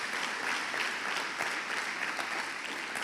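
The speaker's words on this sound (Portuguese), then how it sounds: "E aplauda o Senhor em nome de Jesus." At a baptism and communion church service, the congregation applauds in a continuous, fairly soft and somewhat distant patter of many hands, steady from start to finish.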